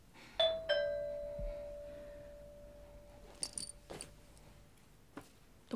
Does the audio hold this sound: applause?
no